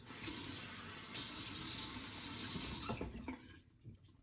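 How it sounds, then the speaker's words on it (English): Tap water runs steadily into a sink for about three seconds while something is rinsed, then shuts off, leaving a few faint drips and handling sounds. "I'm gonna rinse real quick."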